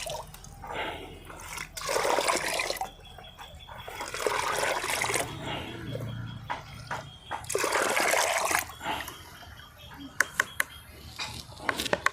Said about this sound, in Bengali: একশো গ্রাম সর্ষে খোলের পচা আমি এই জলের সঙ্গে মেশাবো